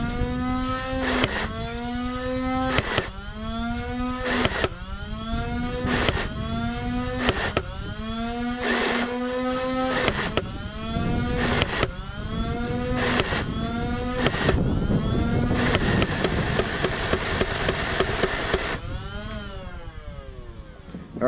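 A Nerf Rival Nemesis blaster firing in full auto: a loud, close, rhythmic motor whir that rises and falls in repeated bursts, with rapid mechanical rattling of balls feeding through near the end.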